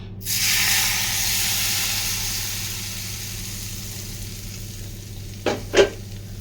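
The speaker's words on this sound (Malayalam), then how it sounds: "നമ്മളിത് ഒഴിച്ച് വെച്ച എണ്ണയൊക്കെ നല്ല പോലെ ചൂടായിട്ടുണ്ട് അപ്പോൾ അത് നമുക്ക് ആ മീൻകൂട്ടിലേക്ക് ഒന്ന് ഒഴിച്ചു കൊടുക്കാം" Hot oil poured over a spiced tuna masala for pickle, giving a loud sizzling hiss that starts at once and slowly fades. Two short clinks of a utensil come near the end. No one speaks.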